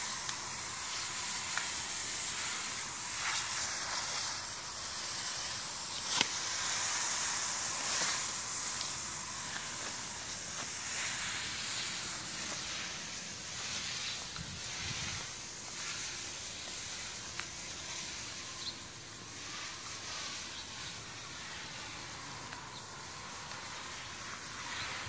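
Steady hiss of cleaner sprayed onto a sago palm infested with white scale, continuous and fairly close throughout, with brief pressure pulses and no talk.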